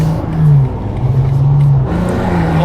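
BMW M2 G87 with an equal-length titanium exhaust accelerating on the road, a loud droning engine note that climbs and settles through the gears, close and steady with a brief dip near the end.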